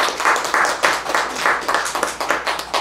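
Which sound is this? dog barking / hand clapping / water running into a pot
hand clapping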